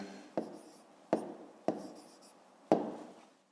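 Handwriting of numbers for a fifth-grade math exercise, four distinct pen or chalk strokes spaced irregularly, each with a short scratchy tail, close and fairly quiet with no voices.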